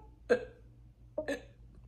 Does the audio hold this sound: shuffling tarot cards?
no